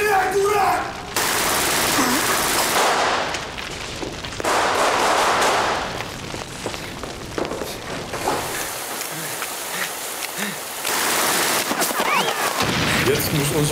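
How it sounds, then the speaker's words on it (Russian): Bursts of machine-gun fire in a war-era spy drama, dense crackling volleys that stop and start in several loud bursts with quieter gaps between them. "Стреляй, дурак!"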